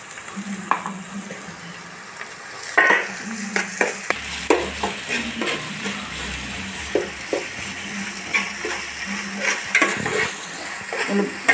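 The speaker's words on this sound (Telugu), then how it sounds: "అల్లం వెల్లుల్లి పేస్ట్ బాగా వేయాలి. 5 నిమిషాలు వేయాలి." Ginger garlic paste fries with onions in a pan for a fish pulusu, a steady close sizzle broken by repeated scrapes and knocks of a spoon stirring against the pan.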